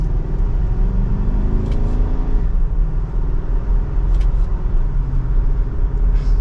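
A 2023 Nissan Armada SV accelerates in second gear while driving. The engine drone climbs steadily in pitch for a couple of seconds, then drops back to a loud, steady rumble under road noise.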